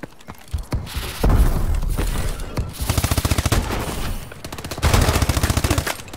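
Rapid automatic gunfire from an online Call of Duty: Advanced Warfare match, loud and close, with sustained bursts, booms and thuds layered over each other.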